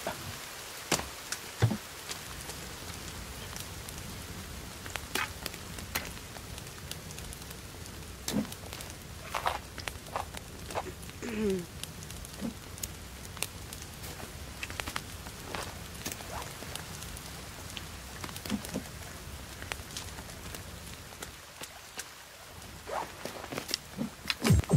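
Rain falling in The Forest survival game, a soft steady patter close by with scattered sharp clicks and rustles from movement throughout, no talk heard.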